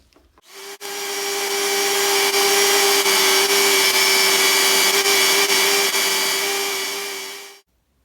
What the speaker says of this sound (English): that was my first stab ever really using the belt sander in the capacity of restoring something